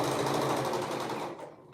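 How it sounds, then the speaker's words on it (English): Close, steady whirring of a sewing machine stitching a shoulder seam at a 3/8 seam allowance on a handmade garment, running continuously before slowing and stopping near the end. "We're sewing it at a 3/8 seam allowance."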